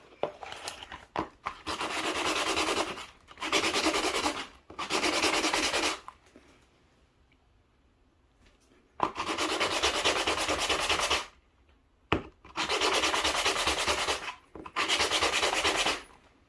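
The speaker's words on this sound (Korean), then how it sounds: "150번 사포로 가는 것이 훨씬 좋습니다. 지금 이거 너무 고와가지고 미끄러지기만 하네요." Fine sandpaper rubs back and forth across a bicycle freehub body bushing in long steady strokes, several bursts separated by short pauses, close and loud.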